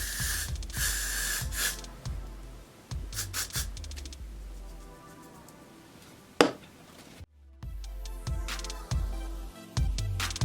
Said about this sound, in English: And then I hit it with my freeze spray.